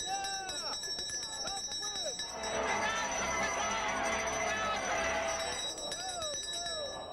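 A hand-rung bell used by bleacher fans at a ballpark clangs in a rapid burst of ringing amid crowd murmur and nearby chatter.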